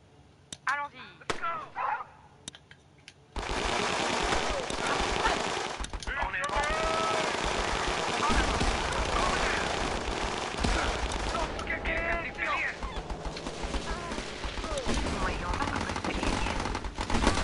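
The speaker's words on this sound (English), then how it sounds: "Force them to bring out their machine gun nest earlier." A machine gun nest in the video game Battle Islands: Commanders opens fire, a continuous loud rattle of automatic gunfire that kicks in after a few scattered shots and runs on unbroken.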